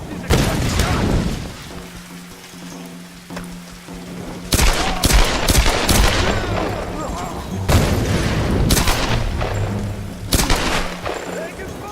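Tomb Raider: Definitive Edition gunfire comes in loud, rapid bursts of shots with heavy booms, trading between several guns over about twelve seconds, while combat voices shout over the fire.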